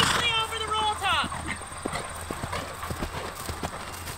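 A horse canters over a roll-top jump in a riding lesson, its hoofbeats landing in a steady three-beat rhythm close by, with a whinny early on and a rider or coach talking over it.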